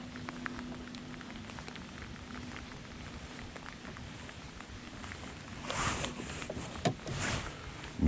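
Light rain patters steadily outdoors during bass fishing, a soft close hiss of drops with a few rustling clothing sounds and small splashes near the end.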